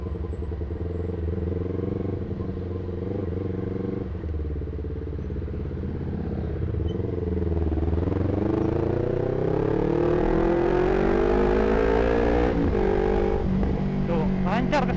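Congested midday traffic on the road through Dramaga toward Leuwiliang, heard from a moving motorbike: a steady engine drone with rising revs and passing vehicles, while a rider talks throughout.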